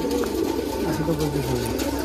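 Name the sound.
Giribaj pigeons cooing in a loft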